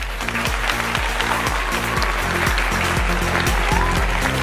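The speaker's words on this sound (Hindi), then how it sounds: "जोरदार तालियों से हम स्वागत करें" An audience at a Hindi Bible quiz competition in Agra claps loudly to welcome a priest, a brisk, continuous round of applause with a low rhythmic musical beat running underneath throughout.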